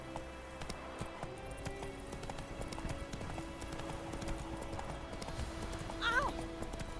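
A horse in The Witcher 3 video game trots with steady hoof clip-clops, then gives a short neigh near the end, heard against a low game background.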